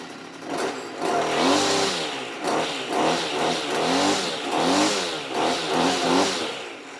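A Stihl whipper snipper's two-stroke engine revs repeatedly in close, buzzing surges that rise and fall in pitch, with no talking.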